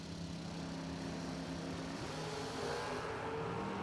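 A wheel-standing Oldsmobile drag racer at a drag strip, its engine a steady, distant roar with a low droning pitch that shifts slightly midway, no voices over it.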